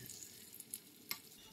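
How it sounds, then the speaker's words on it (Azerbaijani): Meat cutlets fry in a pan with a soft, faint sizzle, broken by a few small crackles and pops, with no voices. "Birinci üzünü 2-3 dəqiqə qızardırıq mütləq"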